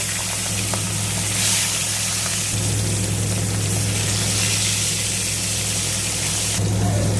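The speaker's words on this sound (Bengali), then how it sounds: "তেল খুব ভালো করে গরম হয়ে গেছে, ইলিশ মাছ ভেজে নেব।" Hilsa fish frying in very hot mustard oil fills the space with a loud, steady, spray-like sizzle that barely varies throughout, close by, with a low hum underneath and no speech.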